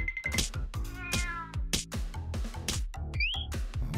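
A cat meows repeatedly in Poppy Playtime Chapter 3, giving a quick run of loud, close cries with a whistle-like chirp near the end.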